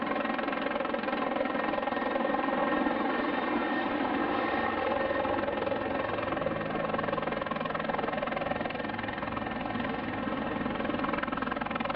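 A continuous, steady drone of an aircraft engine running near takeoff at a military and civilian airfield, holding a constant loud roar throughout with no breaks.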